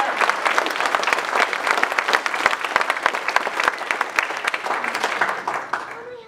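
A crowd at a secondary school graduation ceremony claps steadily, dense and lively, with a few sharper individual claps standing out, fading slightly at the very end.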